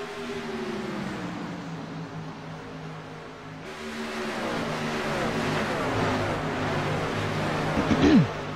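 Race cars accelerating hard in a night race, engine notes sweeping up and down as several cars pass close by. Steady, loud roar throughout that builds toward the end.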